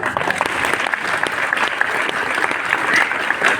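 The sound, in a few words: audience applause at a celebration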